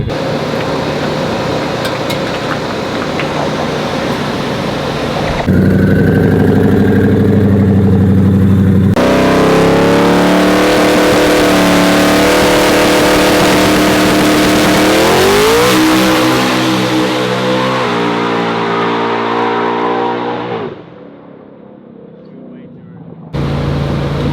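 Drag race car making a test pass before a grudge race in Alabama: a loud engine revving hard and accelerating, pitch climbing through several gear shifts before cutting off, with a few voices nearby.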